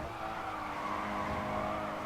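Racing car in the video game GRID 2 during an endurance race, its engine droning steadily with continuous tyre skid and squeal over a dense, unbroken game mix, no talking.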